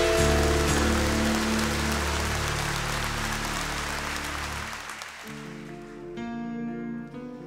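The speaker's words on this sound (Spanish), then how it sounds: "un fuerte aplauso ya que vinieron," Theatre audience at the Teatro Colón applauding the musicians after a concert, dense clapping that fades out gradually under lingering sustained music, with a tonal chord ringing through near the end.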